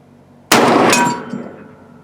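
A single loud, sharp .444 Marlin rifle shot at an outdoor range, a sudden blast ringing out briefly before fading away.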